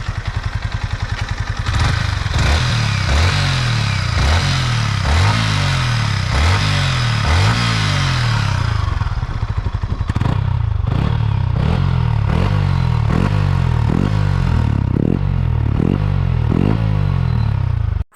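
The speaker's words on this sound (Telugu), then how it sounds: "ఫ్రెండ్స్ విన్నారు కదా క్రిస్పీ రేసింగ్ ఎగ్జాస్ట్ నోట్ ఎలా ఉందో, అండ్ లైక్ ఇంజన్ బీటింగ్ కూడా వెల్ రిఫైన్డ్ అయితే ఉందన్నమాట ఈసారి" A 2024 Yamaha MT 15 V2.0 motorcycle engine and exhaust revving repeatedly, with sharp rising throttle blips in quick succession, then a settled idle pulsing with rhythmic bursts, loud and close throughout.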